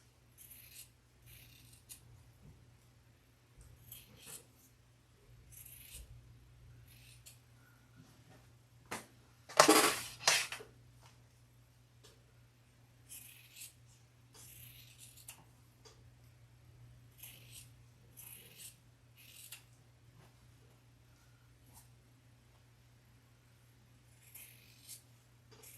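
Scissors snipping through quilt fabric for a block-of-the-month quilt, a string of quiet, regularly spaced cuts close by over a low steady hum, with one louder rustle partway through.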